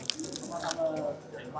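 Biting into a hot taro pie, a close soft crunch and squishy chew of flaky crust under quiet talk.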